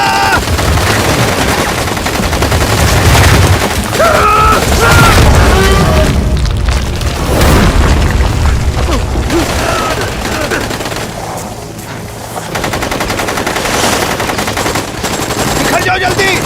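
Gunfire from a movie gun battle against a creature on a snowy shoreline: rapid machine-gun bursts and heavy booms, loud and sustained, with shouting voices mixed in.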